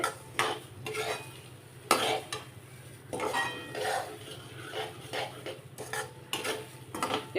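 A spoon stirs semolina roasting in ghee in a metal pan, giving repeated scraping strokes and light clinks in an irregular rhythm, close and fairly quiet with a soft sizzle beneath.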